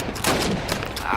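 Rifle fire from the Call of Duty 2 Russian campaign training range comes as a rapid run of sharp, loud reports, several shots within about a second.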